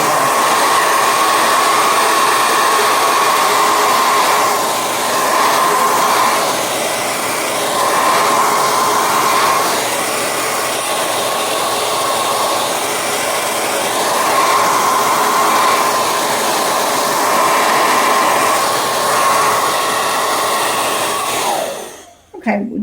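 A hair dryer blows steadily on a watercolor greeting card painting, a loud continuous whine with a slightly wavering pitch that runs for over twenty seconds before switching off abruptly at the end.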